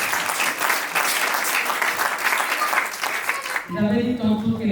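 Wedding guests clap for the groom's witness at a civil marriage ceremony, a steady wash of applause lasting several seconds before it cuts to a voice speaking.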